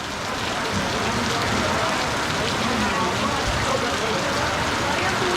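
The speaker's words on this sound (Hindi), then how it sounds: "देख रहे हैं कितनी तेज बारिश हो रही है।" Heavy rain pouring at night in Orchha, a loud, continuous hiss of drops drumming on surfaces with no break, steady throughout.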